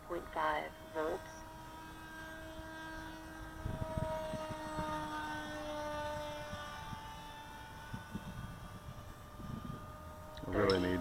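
An RC model airplane with an unbalanced propeller buzzes overhead at a lake in the evening, its tone rising and falling as it passes, with short bursts of nearby talk at the start and end.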